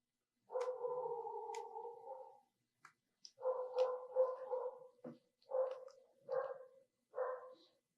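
A dog in a neighboring building barks repeatedly, first a long drawn-out howl-like bark, then several shorter barks in bursts, slightly muffled.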